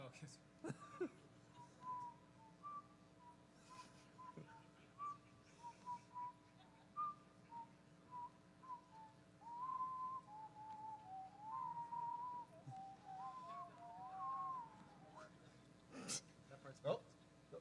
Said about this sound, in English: whistle the girl from Ipanema while we wait